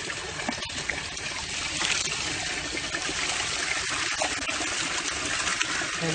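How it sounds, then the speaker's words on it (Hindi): Water is poured steadily into a neem-coloured herbal mixture, producing a continuous splashing, trickling flow that holds at an even, moderate loudness for several seconds with no talking. "पानी डाला"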